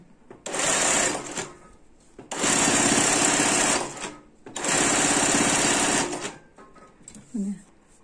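A sewing machine stitches patchwork pieces in three long, loud bursts of rapid whirring, separated by short pauses, recorded close up.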